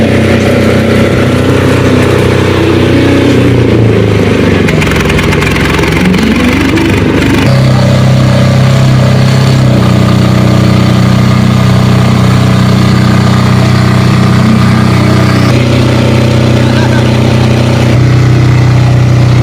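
A Shark SG-7500 diesel generator engine runs loud and close, holding a steady low, throbbing drone with a brief dip and recovery in pitch partway through, then continuing evenly throughout.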